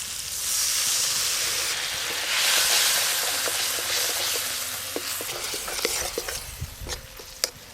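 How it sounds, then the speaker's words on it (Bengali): Spices sautéed with mustard paste and a splash of water in a pan hiss and sizzle loudly up close, with stirring scrapes and taps growing more frequent toward the end. "সর্ষে দিয়ে একটু মশলাটা ভালো করে কষা নিই"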